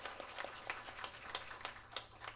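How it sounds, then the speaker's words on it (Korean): A church congregation at a Sunday service claps to welcome first-time visitors, sharp individual claps spaced irregularly against a faint room hum, fairly quiet and distant, with no voices. "박수로 환영하겠습니다."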